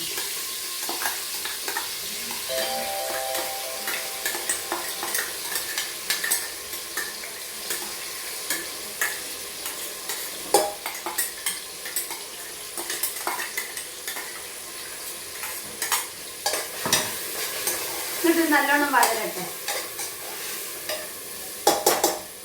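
Ground paste for a North Indian style cauliflower curry hits hot oil and fries with a steady crackling sizzle, while a spoon repeatedly scrapes and clinks against the pan up close.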